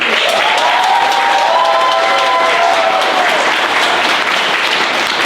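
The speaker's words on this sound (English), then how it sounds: "let's get a round of applause to the husband and wife" Wedding guests give a round of applause for the newly married husband and wife at a reception toast, steady clapping and some cheering from a crowd filling the room for several seconds.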